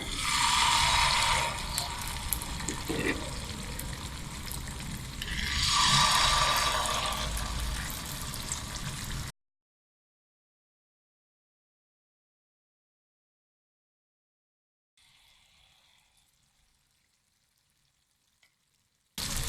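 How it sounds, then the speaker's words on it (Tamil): Unniyappam batter frying in ghee in an appam pan: a dense, loud sizzle with bubbling swells for about nine seconds, close by, then near silence with a faint brief crackle later, no talk. "பாருங்க, எல்லாத்துலேயும் மாவு ஊற்றியாச்சு. கொஞ்ச நேரம் வேகட்டும்."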